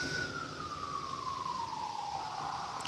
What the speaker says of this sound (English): Sounds like an ambulance to me